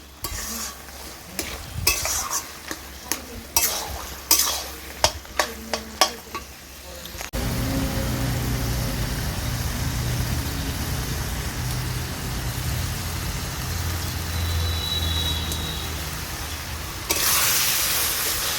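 Taro leaves cooked with a fish head are stirred in a hot pan, with a run of sharp scraping clinks up front, then a steady close sizzle with a brief higher hiss near the end.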